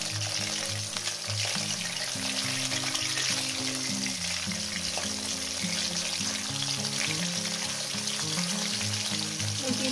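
Katla fish pieces fry in hot oil with a steady, dense sizzle that runs unbroken and fairly loud, with no voices over it.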